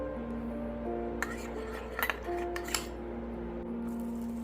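A spoon stirs a small bowl of mayo, sriracha and lemon juice sauce, giving a few quiet clinks and scrapes against the dish in a calm kitchen.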